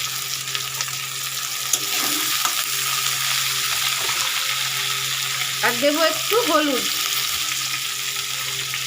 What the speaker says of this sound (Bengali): সামান্য দিয়ে আমি এটা ভাজা ভাজা করে নেব